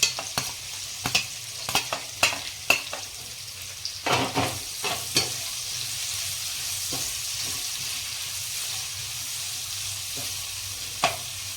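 Chopped onions are sautéed in a pan with garlic and spices for a vegetable pulao, with a run of quick spatula scrapes and clacks over a steady sizzle in the first half, then mostly a continuous sizzle.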